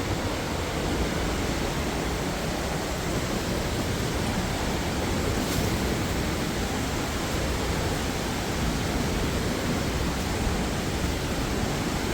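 Xe Katam waterfall near Pakxong in Champasak, Laos, rushes with a loud, steady broadband roar of falling water that stays unbroken and close throughout.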